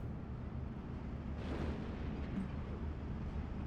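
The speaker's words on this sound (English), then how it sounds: "I did find their 82mm mortar, and I have redirected fire onto that" Mortar artillery fire in Steel Division 2 comes as a muffled, distant boom that swells briefly over a constant low rumble of battlefield noise.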